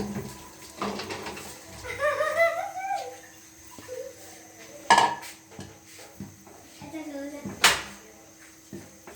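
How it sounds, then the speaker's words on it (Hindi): Chickpeas are tipped into a pan of ground roasted fennel, with clinks and scrapes of metal utensils against the cookware and a voice speaking intermittently in between. "अब हम इसमें चने डालेंगे।"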